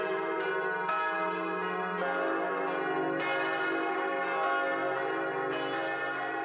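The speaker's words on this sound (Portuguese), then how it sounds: "Mas aqui, os sinos também não perdem a hora." Monastery church bells ringing in São Paulo, repeated metallic strikes with long overlapping resonant tones, a steady peal sustained throughout with no talking.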